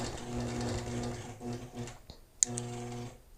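A sewing machine stitches 30 degree lines across a quilt block with short bursts of needle chatter separated by brief pauses, quiet and close, with a small click partway through.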